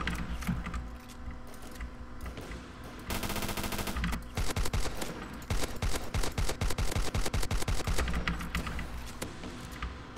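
Gunfire in the Base Wars video game bursts in rapid automatic volleys, mixed with sharp clicking hit marker sounds. Shots crackle densely and loudly, with short gaps between bursts and no voices.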